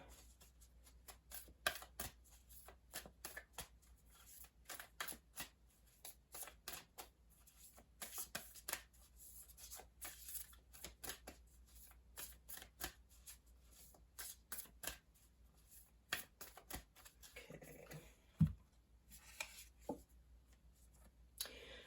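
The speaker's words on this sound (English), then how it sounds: "I'm going to pull a Moonology Oracle card for you for this row." Oracle cards are shuffled softly for a tarot reading, a faint, continuous patter of quick card flicks and riffles at close range over a quiet room.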